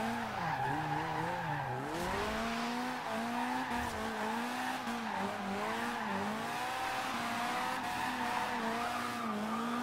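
A 2016 Mazda MX5 drift build in the racing game Forza Horizon 2 slides with long, wavering tire squeals over a steady engine drone, loud and continuous, with no talking.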